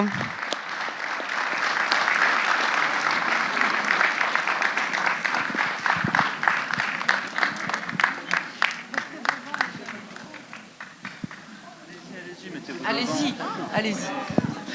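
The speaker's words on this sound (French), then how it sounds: "on peut même les applaudir, les encourager" A crowd applauds the youth council members at a New Year's greetings ceremony, with loud sustained clapping that breaks into rhythmic, spaced claps before fading, as chatter and voices mix in toward the end.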